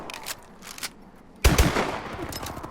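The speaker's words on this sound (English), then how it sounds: "here's the Screamin's rate of fire" NA-45 Screamin' weapon in Call of Duty: Advanced Warfare fired in a short burst after a few sparse quieter sounds, a loud, sudden barrage of rapid reports with a ringing tail.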